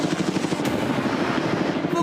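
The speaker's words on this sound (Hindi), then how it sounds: "ये हेलीकॉप्टर हमारे बॉयज को ऊपर हवा में ले जाएगा" A helicopter flies over the sea near a private island, giving a steady, loud rhythmic rotor chop that fills the whole stretch without a break.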